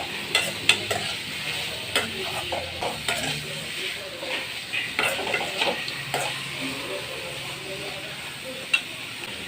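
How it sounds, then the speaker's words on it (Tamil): Cauliflower sizzles and is stirred in a hot pan, with repeated scraping clicks of a spoon against metal over a constant frying hiss. "இப்போ காலிஃப்ளவரை நம்ம வதக்கிக்கிறோம்"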